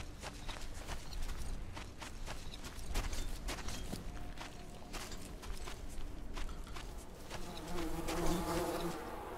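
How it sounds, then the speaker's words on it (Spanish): Flies buzz steadily and close in the video game Metro Exodus, a continuous insect drone with light footsteps and scuffs running alongside it throughout. "qué rápido las moscas"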